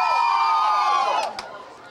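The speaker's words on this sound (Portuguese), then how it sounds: "Gente, uma salva de palmas pra ele." Crowd cheering and whooping from a Brazilian TV show audience, loud and steady with sustained shouts, then thinning out near the end.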